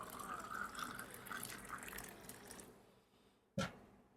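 Hot water is poured into a glass for a honey-and-lemon drink, a steady close liquid stream filling for a few seconds, then fading before a brief knock near the end.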